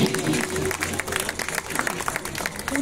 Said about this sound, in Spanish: aplaudan porque no hay más premios